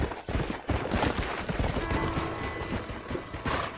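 Horse hooves galloping in the Red Dead Redemption video game, a dense, rapid, continuous clatter that stays loud and steady throughout with no talk.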